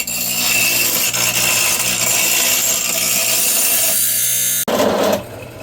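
A loud power tool grinds and cuts steadily into metal while making an exhaust plate for a turbo lawnmower build, running continuously before an abrupt shift and then dropping away near the end.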